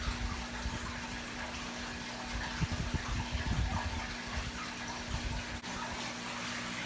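Water pump of a cheap DIY aquarium water polisher filling the tank, giving a steady rushing, gushing wash of water with a faint constant pump hum underneath, moderately loud and continuous throughout.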